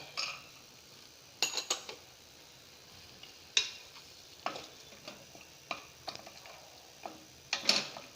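Cashews and almonds frying briefly in ghee in a pan for white pumpkin soup, with scattered light sizzles and stirring clicks over a faint hiss, close by and with no talking.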